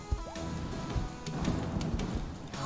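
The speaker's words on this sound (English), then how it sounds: "Oh, there's a thunderstorm! There's a thunderstorm!" Rain falls steadily in a Wobbly Life video game thunderstorm, a dense wash of noise with a few low rumbling thuds, fairly quiet and continuous with no voices over it.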